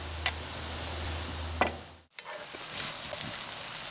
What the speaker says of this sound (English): I'll let this all cook down together until the salt pork is about done and the onions are starting to turn translucent.